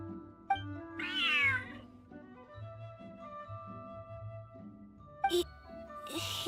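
A cat in the Genshin Impact video game gives one clear, rising-and-falling meow, close and fairly loud, over soft game music with short chimes afterward.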